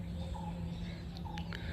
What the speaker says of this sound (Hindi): चिड़िया चीख रही है,